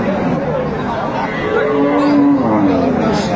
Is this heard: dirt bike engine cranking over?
no